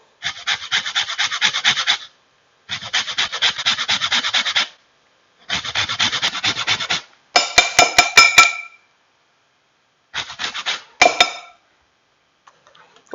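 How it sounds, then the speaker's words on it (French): A lemon is scraped against a zester in five rhythmic bursts of rasping strokes, close and crisp, with a few sharp metallic ticks between passes. "On va zester notre citron."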